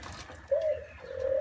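Young Japanese-French breeding birds coo close by: two soft, low, drawn-out coos in a quiet setting.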